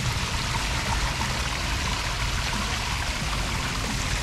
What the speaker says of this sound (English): Now we're down to where the waterfall ends.